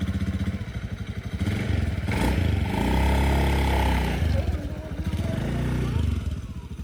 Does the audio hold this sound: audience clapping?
no